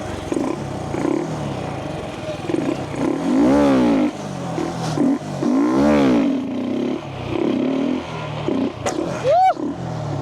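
A motorcycle engine revs hard as the rider opens the throttle coming down from a wheelie, with loud rising and falling surges throughout and wind noise over the bike.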